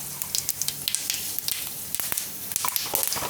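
Cumin and white sesame seeds sizzle in hot oil in a pan over low gas, a steady crackling hiss broken by frequent small pops and spits.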